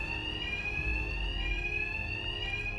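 Alarm ringing in Batman Arkham Knight, a loud continuous electronic bell tone holding steady without pause, over a low rumbling background and no speech.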